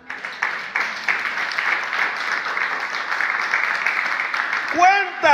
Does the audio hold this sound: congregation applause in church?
yes